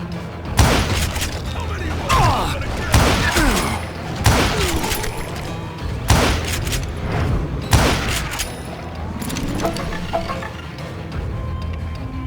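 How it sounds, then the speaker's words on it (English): A fusillade of gunfire in the Western shooter Call of Juarez Gunslinger, with loud booming shots striking at fairly regular intervals, each followed by ringing debris and clinks, sometimes under a narrating voice. "a fusillade of bullets come raining down from on high"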